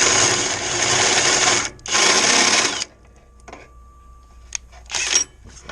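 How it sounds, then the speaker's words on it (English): Two loud bursts of a power drill spinning a fishing reel to remove a burr, each a buzzing whir lasting about a second, followed by quieter clicks and a short final whirr. "hook my drill to it, spin it, pull it, and take that burr off"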